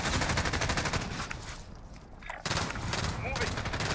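Sustained gunfire from a Warzone firefight, dense repeated shots rolling on loudly for most of the stretch, easing briefly in the middle before picking back up.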